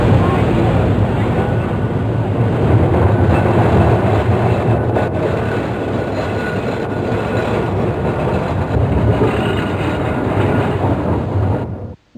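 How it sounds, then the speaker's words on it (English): A Blackpool tram rolls past in 1985 during the tramway centenary, a continuous loud rumble of wheels and motor with clattering rail noise that cuts off abruptly at the end. "One of the popular boat trams floats towards the tower."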